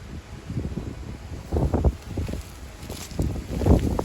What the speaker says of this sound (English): It's windy today, man.